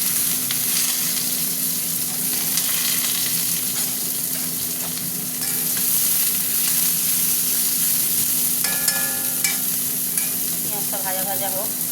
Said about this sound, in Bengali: এবার দিয়ে দেবো পেঁয়াজটা